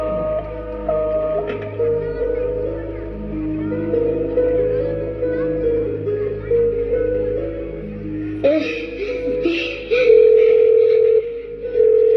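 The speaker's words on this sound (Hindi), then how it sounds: "फोन कट गया।" A steady telephone dial tone hums after a call drops, a continuous electronic tone running through the clip with faint background noise and a brighter shift near the end.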